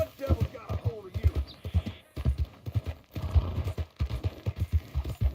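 Rhythmic horse hoofbeats clip-clop steadily at a trot, close and clear, with a brief whinny early on, in the video game Red Dead Redemption 2.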